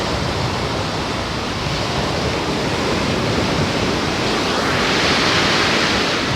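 Ocean surf washes up a beach around bare feet, a continuous loud hiss and rush of water that swells slightly toward the end, with wind on the microphone.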